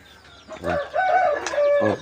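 Chickens and a rooster nearby at feeding time: a few clucks and a drawn-out crowing call, fairly loud, with repeated bursts over about two seconds.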